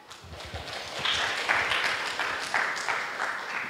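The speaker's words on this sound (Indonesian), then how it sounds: "Tepuk tangan sekali lagi untuk Joanna boleh." An audience in a devotional reflection contest gives a round of applause for Joanna, steady moderate clapping from a hall crowd, fairly distant and sustained throughout.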